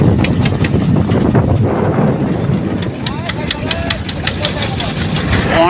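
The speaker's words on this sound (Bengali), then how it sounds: "অনেক অনেক বাতাস রয়েছে" Strong wind buffets the microphone on a boat on the Padma river, a continuous loud, blustery rumble with a low steady drone underneath.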